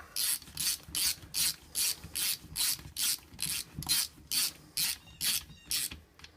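A ratchet wrench snugs up bolts during reassembly of a Hurth HWB-10 marine transmission, giving about fourteen evenly spaced bursts of close, crisp pawl clicking in a steady back-and-forth rhythm with no talking.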